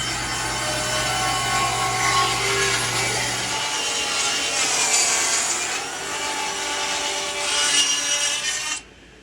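A saw cuts through a piece of wood for a guitar center brace, rasping in a steady back-and-forth close by, with the tone shifting partway through before stopping suddenly.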